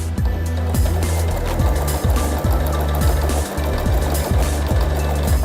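A Janome Skyline S5 sewing machine stitches through stacked fabric layers with a rapid, regular mechanical chatter and a low rhythmic hum, close and steady throughout.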